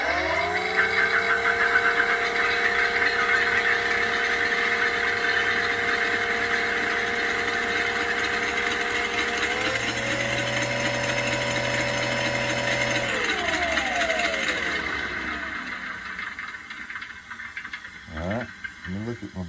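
An engine sound system in a model Stuka airplane drones with a steady buzzing whine, shifting pitch as the throttle changes, then cutting out, followed by a few clicks.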